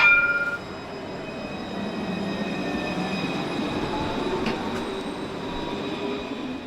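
A Tenerife tram runs along its rails with a steady rumble, high metallic wheel squeals ringing over it, and faint clicks of the wheels on the track, with no talk.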